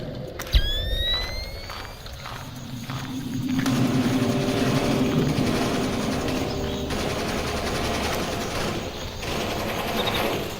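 Sustained automatic gunfire rattles through a tense shootout in the stealth action game Splinter Cell: Pandora Tomorrow, a dense continuous clatter of bursts after a sharp opening crack, fairly loud with no talk over it.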